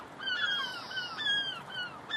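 Seagulls calling overhead outdoors, a series of sharp, repeated cries rising and falling at moderate distance, several birds overlapping with brief gaps between calls.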